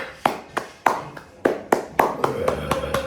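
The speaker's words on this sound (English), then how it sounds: "Clap now." Hands clap in a guided self-massage exercise, about a dozen sharp, close claps in an uneven rhythm over a few seconds, with no talking over them.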